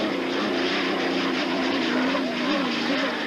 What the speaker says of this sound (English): That turbocharged, fuel-injected Allison engine.